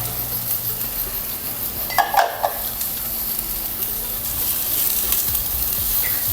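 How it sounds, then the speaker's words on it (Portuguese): Onion and carrot sizzle steadily in a pot as a braise gets started, a continuous frying hiss with a brief burst of stirring and utensil clatter about two seconds in. "Nesse aqui eu vou colocar cebola. E cenoura, pra gente dar aquela iniciada na caramelização."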